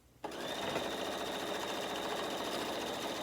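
A sewing machine sews down quilt blocks for an 8 patch appliqué project, starting abruptly after a brief quiet and then running in a steady, close, continuous whir.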